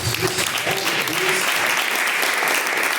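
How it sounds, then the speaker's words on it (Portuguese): Church congregation applauding in praise during a live Pentecostal service, steady dense clapping filling the whole stretch with a brief voice underneath at the start. "As palmas para Jesus"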